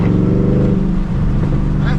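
A Shelby GT500 with its 5.8 engine accelerating, a steady deep low engine drone heard from inside the car, with someone talking over it.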